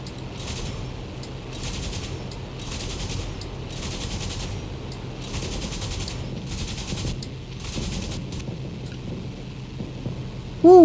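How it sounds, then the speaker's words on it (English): Gunfire from a ground gun emplacement in the IL-2 Sturmovik flight game, a steady dense rattle of shots under constant rumbling battle noise, with a sudden loud burst at the very end. "There's one firing still, looks like."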